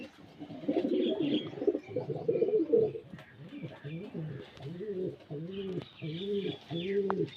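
Pigeons coo in a breeding cage, a pair giving repeated rhythmic rolling coos close by, with fainter chirps in the background.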